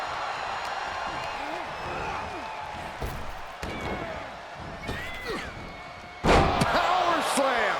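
A heavy wrestling power slam in a video game thuds over a loud, roaring crowd while a commentator talks throughout; a sharp burst of noise hits near the end.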